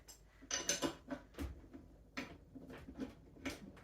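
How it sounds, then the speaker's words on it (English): Faint metallic clinks and clacks come from a stand mixer as its attachment is pulled off and a dough hook fitted for focaccia bread dough. The knocks are separate and spaced out, with quiet pauses between them. "now I'm going to replace this with my dough hook"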